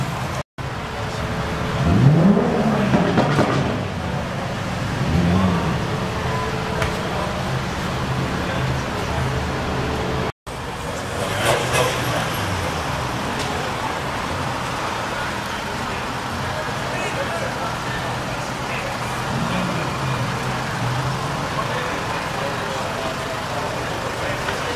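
Modified cars move around a petrol station during a rally weekend in Donegal, giving a continuous rumble of engines and road noise while people talk over it.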